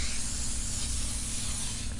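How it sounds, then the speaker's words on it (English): Dollar Tree multi-purpose spray glue hisses from an aerosol can in one continuous, steady spray, close up and alone. "I am just going to spray this multi-purpose spray glue from Dollar Tree"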